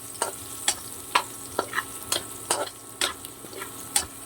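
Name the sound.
garlic frying in a pan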